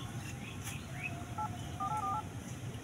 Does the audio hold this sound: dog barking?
no